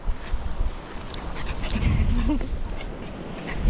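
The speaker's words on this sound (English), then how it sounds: "Big puppy." A dog pants quickly and lets out a short high whine near the middle, with light rustling around it, on Seaham Beach in the rain.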